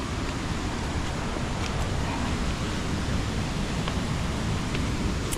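Twin waterfall with a strong flow of water, a steady loud broadband roar of rushing, splashing water that fills the whole clip without pause.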